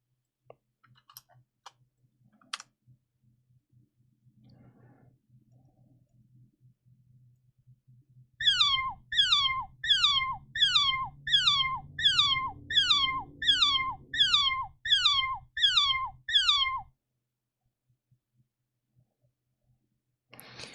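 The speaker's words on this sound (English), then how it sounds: "I have a bunch of other effects on the meow sound." A run of about a dozen rapid, identical pitch-shifted cat meows repeating in a steady rhythm over a low pulsing beat, with faint clicks before.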